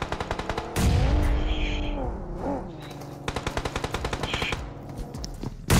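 Automatic gunfire rattles in rapid bursts during a battle royale firefight, with repeated volleys and a few heavier booms close by throughout.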